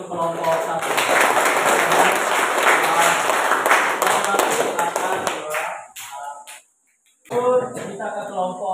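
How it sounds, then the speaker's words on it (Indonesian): A classroom claps for a student group in a burst of brisk, dense applause that fades out, a brief silence follows, then voices resume speaking. "Kita beri tepuk tangan untuk kelompok 1."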